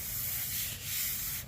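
Hand sanding of basecoat paint on a 1970 Monte Carlo SS 454, a close, continuous rasping rub with brief louder strokes near the end.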